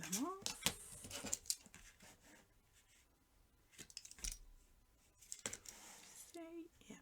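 Scissors trimming stamped paper pieces at a craft table, quiet intermittent snips and paper rustles, close and soft, mixed with a voice talking.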